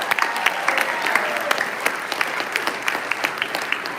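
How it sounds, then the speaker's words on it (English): Audience at a hotel ballroom charity gala applauding on cue, steady continuous clapping from a sizable crowd with sharper individual claps standing out, sustained at an even level for the whole stretch. "This is the applause part."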